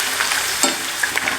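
Kerala banana chips deep-frying in oil, a close, busy crackle and sizzle with small pops and bubbling bursts scattered through.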